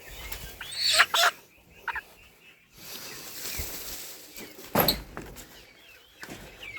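A rooster clucks in a few short, close bursts in a farmyard during the moving of chickens, with quieter rustling and movement between the calls.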